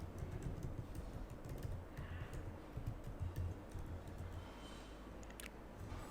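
Computer keyboard typing as code is written, a steady run of soft, quick keystrokes at close range over a low background hum, with no talking.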